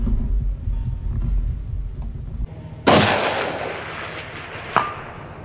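A single loud precision rifle shot cracks out in the woods toward a far target, echoing and decaying for about two seconds, followed by a faint distant impact ping, after quiet low rumble before it.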